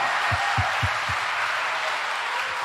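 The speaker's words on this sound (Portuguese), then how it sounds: "Aplauda o Senhor" A congregation claps in a church during a sermon, a dense and even roar of applause that fills the room, with a few low thumps near the start.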